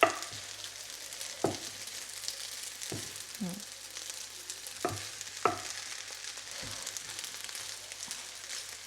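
Food sizzles steadily in a hot pan during stir-frying, with a soft continuous crackle broken by several sharp knocks and scrapes of a utensil against the pan, fairly quiet and without talk.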